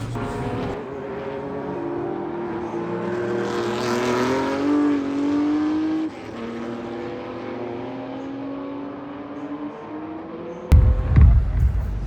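A classic race car with a Super Sprint exhaust and manual gearbox passes at the Le Mans Classic, its loud engine note climbing and falling through gear changes as it sweeps by, followed by a brief closer rumble and clatter.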